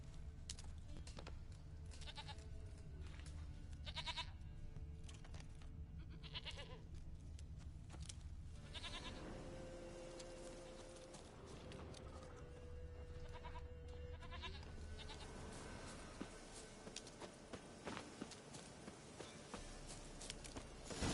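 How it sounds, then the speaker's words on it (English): A goat bleats repeatedly in The Witcher 3: Wild Hunt, its calls rising over a steady layer of game ambience and music, with hooves and footsteps faintly audible in places. "Here, goat."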